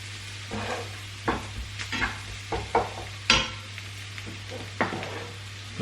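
Food stirred in a frying pan, a soft sizzle under a hum, broken by repeated scraping and clinking strokes of a utensil against the pan in an uneven rhythm, close by, no talking.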